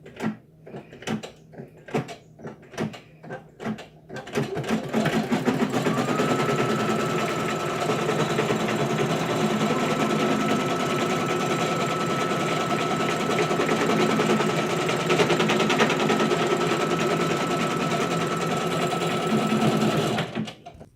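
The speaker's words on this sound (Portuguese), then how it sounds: "Agora, eu vou colocar o meu tecidinho ali em cima e deixar a máquina prender o tecido." A few separate taps and short machine bursts, then a sewing machine stitching fabric in a steady, loud, continuous run for about fifteen seconds before stopping.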